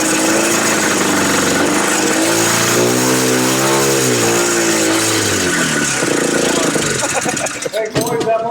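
A vintage snowmobile engine stored for 22 years runs loud and close, its pitch rising and falling as the throttle is revved and eased, sounding rough before sputtering near the end.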